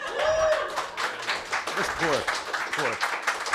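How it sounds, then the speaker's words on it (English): Clapping and cheering from a crowd at an election night party, mixed with voices and shouts throughout, moderately loud and lively. "by a round of applause, who agrees that Dan Brennan's vote for supremacy reigns supreme?"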